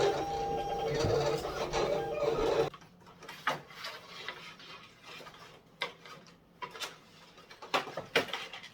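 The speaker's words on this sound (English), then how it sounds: "I get my cutter ready, and I load in my heat transfer vinyl, and I will cut out my design reversed" A vinyl cutter slices a reversed design into heat transfer vinyl, its blade carriage giving quick ticking and whirring bursts with short pauses, following a louder stretch of mechanical noise at the start.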